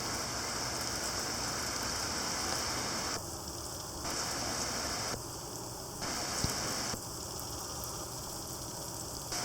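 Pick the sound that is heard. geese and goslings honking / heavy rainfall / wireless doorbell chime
heavy rainfall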